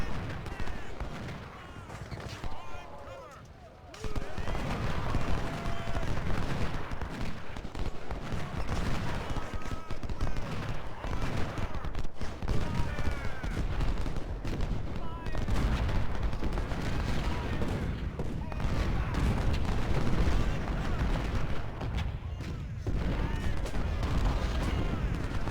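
Civil War artillery booms and rumbles continuously in the Ultimate General: Civil War video game, with dense, overlapping cannon fire throughout.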